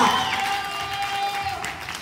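Crowd applause at a breakdance jam, the Calaverita Party Jam 2018, cheering a supporter; a steady wash of clapping holds for two seconds at moderate volume, with a faint tonal hum running beneath it.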